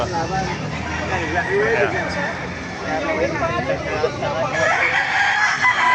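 Roosters crow and chickens cluck among caged fowl at a busy market in Baliuag, loud and close over a constant babble of people talking in the background.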